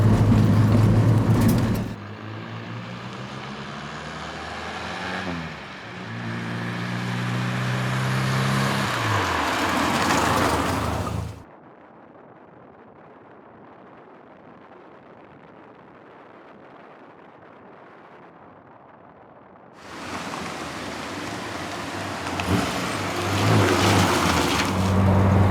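An Austin pickup drives along a sunny winter country road toward Stang Forest, its engine droning and rising through gear changes, with a long stretch of quieter, muffled road and wind noise before the engine note returns.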